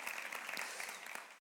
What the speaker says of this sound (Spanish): Dense un aplauso porque somos de los mismos. Un aplauso fuerte, un aplauso fuerte.